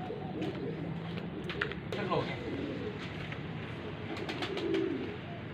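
Domestic highflyer pigeons coo in soft, low, repeated phrases close by, with chirps and clicks over a busy background where people talk intermittently.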